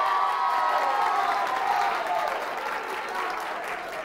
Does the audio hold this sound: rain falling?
no